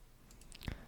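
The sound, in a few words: mouse click pressing plus button in software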